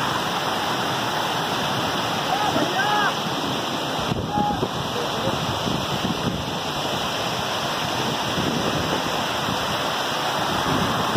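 Heavy rain sends water cascading down the stone steps of Ankai fort like a waterfall, a loud, constant broadband roar throughout, with faint voices beneath it.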